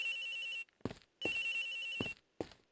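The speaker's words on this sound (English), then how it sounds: "The ringing's coming from somewhere in here, sir." A telephone rings in the Ace Attorney Investigations video game: a loud electronic trill in two long bursts with a brief gap between them and short clicks during the pauses.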